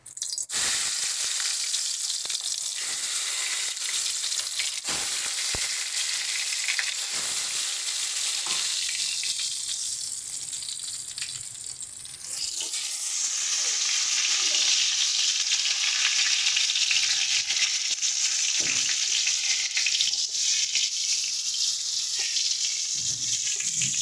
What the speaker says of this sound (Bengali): এবার আমরা বেগুনগুলোকে ভেজে নিচ্ছি।